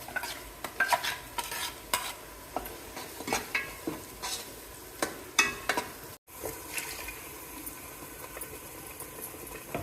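Masala is stirred into frying onions in a pan for a fish curry, with a steady rhythm of spoon scrapes and taps over a soft sizzle and bubbling, brief gap midway, quiet and close with no speech.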